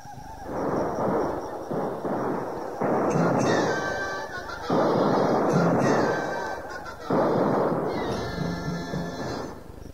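Musket volleys crack repeatedly in a dramatized Revolutionary War battle scene, a dense run of loud overlapping bursts with shouting voices underneath.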